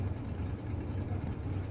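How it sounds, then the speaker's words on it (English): A supercharged blower drag car engine idling and revving through a burnout at a drag racing event, a steady low rumbling drone heard at moderate distance with no one talking over it. "They're very disruptive, those blower cars."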